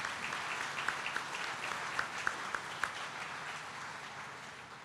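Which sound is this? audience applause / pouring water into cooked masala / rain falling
audience applause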